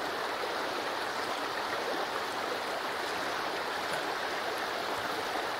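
A babbling stream in the survival game Sons of the Forest, a steady, soft rushing and trickling of water that runs continuously at moderate distance with no voices.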